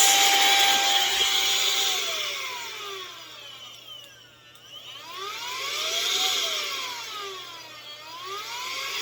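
A rechargeable battery-powered compressed air duster blows with a close, loud whirring rush whose motor pitch sweeps up and down as the speed changes, dipping quieter midway before swelling again.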